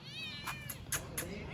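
A cat meowing nearby in a drawn-out, wavering cry that rises and falls, with faint background noise and no talk.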